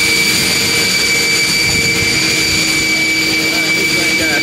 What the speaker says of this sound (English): Never been on a double decker plane before.